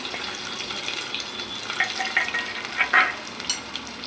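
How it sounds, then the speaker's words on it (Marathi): Curry leaves and onion hit hot oil for a mango-prawn masala, a dense crackling sizzle with bursts of sharper spluttering pops that rise and fall. "तर आता थोडासा कढीपत्ता टाकते आणि कांदा टाकते"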